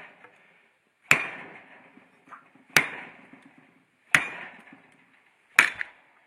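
Four hard, sharp impacts spaced about a second and a half apart as a Showa fork tube from a Ducati 900SS, clamped in a vise, is yanked forcefully, each with a brief metallic ring that fades quickly.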